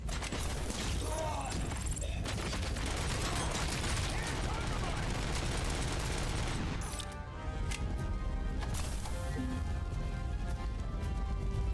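Sustained gunfire in the action game Robocop: Rogue City, dense bursts of shots and mechanical clatter filling most of the clip, easing off near the end into quieter game ambience.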